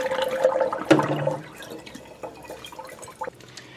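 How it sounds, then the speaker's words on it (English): Water splashes and pours out of a film developing tank during black-and-white film processing, a sudden gush that tapers into smaller trickles and drips. "I'm going to go ahead and turn that off, dump the water."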